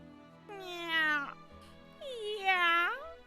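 A hungry cat meows twice, each a long, drawn-out, rising-then-falling cry with a short pause between, fairly close and clear.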